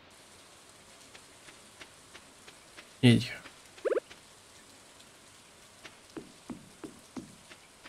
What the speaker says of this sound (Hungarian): Esik az eső